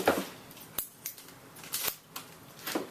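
Scissors snip through computer-part packaging close by, a handful of sharp cuts at uneven intervals, with no voices.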